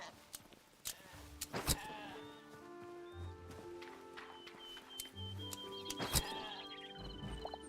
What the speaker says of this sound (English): More sheep. I do need to shear that.